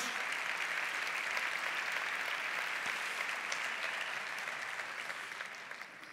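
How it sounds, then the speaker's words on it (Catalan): Sustained applause from an assembly crowd fills a union gathering in a sports pavilion, a dense, even wash of many hands clapping with no talk, tapering slightly toward the end. "Un aplaudiment per Lalo"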